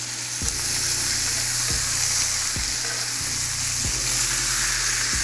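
Steak sizzles loudly and steadily in a hot pan after being flipped, with a dense close-up crackle and a few rhythmic low thumps.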